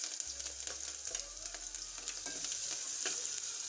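Spices, chopped chili and grated ginger sizzle in hot oil for sabudana khichdi, a close, continuous crackling fry punctuated by the scrape of stirring.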